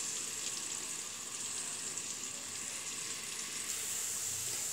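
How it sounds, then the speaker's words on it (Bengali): Onion slices frying in hot oil for a lentil tempering, with a steady, close sizzle of bubbling oil that holds evenly and brightens slightly near the end, with no voices. "পেঁয়াজটা প্রায় ভাজা হয়ে আসছে"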